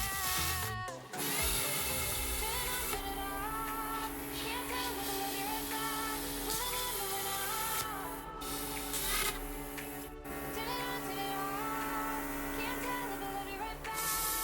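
A Parkside plasma cutter with a built-in compressor runs as it cuts, a continuous loud hissing rush with tonal whine, briefly broken by a few short gaps and cutoffs, and no voices.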